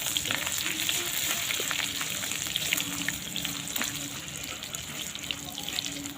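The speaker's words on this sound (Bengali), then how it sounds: "আদাটাকে আর পানমৌরিটাকে একটু ভেজে নেব।" Ginger and fennel seeds frying in hot oil in a home kitchen, a steady close sizzle with faint crackles and watery hiss throughout, no talking.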